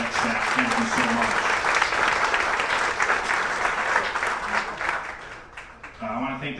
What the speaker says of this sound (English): round of applause for our athletic staff